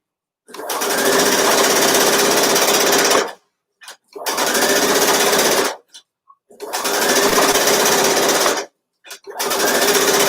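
A sewing machine stitches fabric in four loud, sustained bursts separated by short pauses, working its way around a seam while leaving an opening for elastic.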